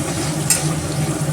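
Chicken pieces frying in a pan with salt and turmeric for an Assamese curry, a steady close sizzle with a couple of brief stirring scrapes.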